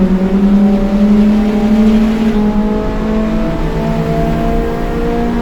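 A Lemons endurance race car at Ridge Motorsports Park revs hard down the straight, its engine note loud and close, climbing steadily in pitch, then shifting and pulling again, with no talk over it.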